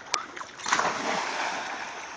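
Water splashes sharply once in a backyard swimming pool, then a broader churning splash follows and settles into a steady wash of sloshing water nearby.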